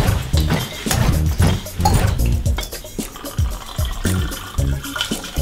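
Margarita liquor, measured for two glasses, pours into a cocktail shaker as a steady close liquid stream broken by small clinks and splashes, with no talking.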